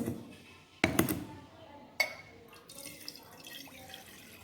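Roughly 90 ml of alcohol poured into a container while a fixative is prepared in a lab, giving brief close liquid splashes with glassy clinks in two short bursts, followed by faint trickling.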